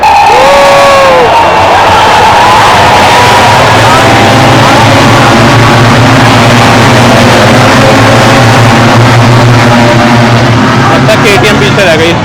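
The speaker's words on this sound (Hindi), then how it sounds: "भाई गजब ही आवाज है V4 इंजन की" Ducati V4 MotoGP bike roaring past at a race track, a loud sustained engine growl with shifting pitch mixed into a cheering crowd and general trackside din.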